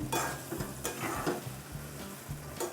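A spoon scrapes and turns a sizzling pumpkin vegetable curry in a pan, making steady rhythmic stirring strokes about twice a second over a soft frying hiss, close by with no voices.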